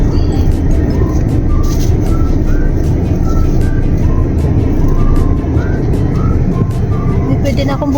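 A motorized tricycle drives off, its steady engine drone rumbling continuously up close amid background noise and a few faint voices.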